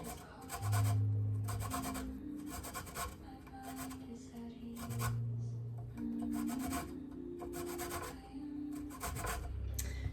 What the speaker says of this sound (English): Zest all those dark yellow parts until they turn light yellow.